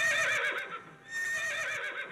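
A mare whinnies twice in quick succession, loud and close, each neigh a high wavering call separated by a brief pause.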